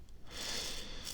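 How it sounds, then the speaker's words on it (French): A steady, close rasping snip-and-slide sound of scissors cutting hair, with a brief quieter moment at the start. "On est reparti pour un coup de ciseaux."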